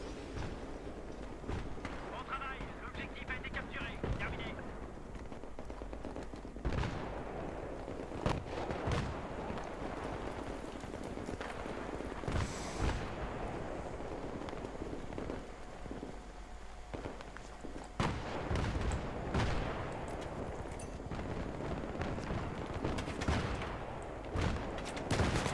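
Gunfire in the video game Battlefield 3 comes as scattered shots and bursts through a long stretch of game sound, with footstep-like thuds and someone talking over it.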